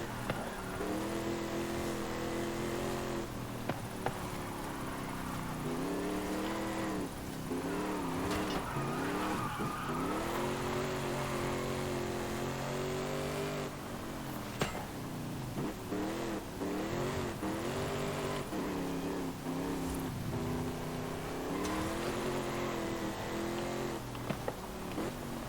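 A Dodge Magnum SRT8 driven in Forza Horizon 5, its engine droning steadily with rising and falling revs through gear changes, loud and continuous throughout with no talking.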